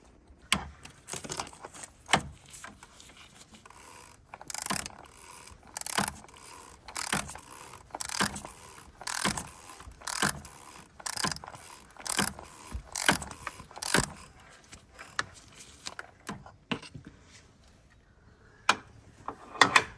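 A ratchet tool tightens the oil filter cover on a 2015 Vauxhall Zafira 1.4 petrol, giving short close bursts of rapid clicking repeated in a steady rhythm with brief pauses between strokes.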